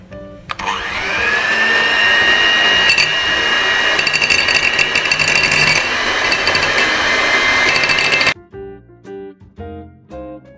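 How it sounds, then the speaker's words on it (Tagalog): An electric mixer whisks oil into homemade mayonnaise, giving a loud, steady motor whine for about eight seconds before it cuts off, followed by a few soft clicks and knocks. "I'm going to use this electric mixer."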